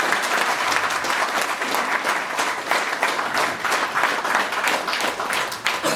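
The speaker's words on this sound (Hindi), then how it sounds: "एक बार सबके लिए जोरदार तालियां हो जाए।" Loud, sustained applause fills the room from a corporate laughter yoga group, dense rapid clapping from many hands continuing steadily throughout with no talk over it.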